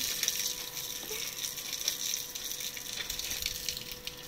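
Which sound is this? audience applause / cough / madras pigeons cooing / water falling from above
water falling from above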